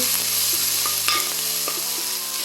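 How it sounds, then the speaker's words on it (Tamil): Ginger garlic paste and onions sautéing in oil for mutton curry, a loud steady sizzle with a few light stirring taps, no voices. "இஞ்சி பூண்டு விழுது அதை நான் நல்லா வதக்குறேன் வெங்காயத்துலேயே இஞ்சி பூண்டு விழுதை நல்லா வதக்கிட்டு"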